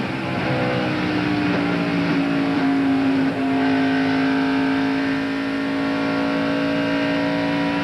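NASCAR Busch Grand National race cars roar at over 155 mph in the 1998 Las Vegas 300, a loud, sustained engine drone with a steady high whine and a slight pitch shift midway, with no talk.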